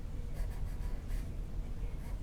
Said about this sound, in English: now we're going to take this shadow in here and interpret that shadow in pencil